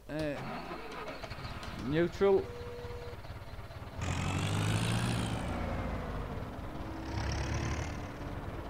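A tractor in Farming Simulator 2017 starts up and its engine runs with a loud, broad rumble after a few spoken words, dipping briefly before roaring on.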